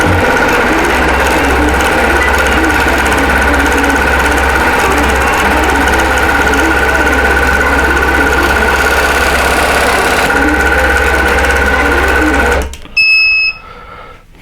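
An embroidery sewing machine stitches out a short quilt block design with a loud, continuous mechanical whir and rapid needle rhythm, then stops abruptly near the end and leaves a few faint beeps.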